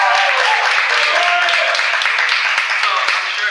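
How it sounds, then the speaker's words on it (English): Audience at a lecture recital breaking into steady, dense applause that stays full and close for the whole stretch, with a voice talking over it. "so if we could get a round of applause for that"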